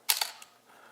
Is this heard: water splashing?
no